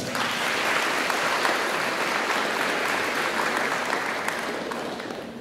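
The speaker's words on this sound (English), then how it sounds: "I want everybody to give yourself a round of applause" A crowd at a high school National Signing Day applauds coaches, teachers and supporters with a sustained, even round of clapping that holds steady before easing slightly at the end.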